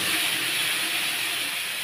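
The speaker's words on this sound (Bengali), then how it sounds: "এইবার পেঁয়াজটাকে আমি ভালো করে ভেজে নেব" Onion paste frying in hot oil for a doi katla fish curry gives a steady, even sizzle that hisses continuously throughout, with no voices over it.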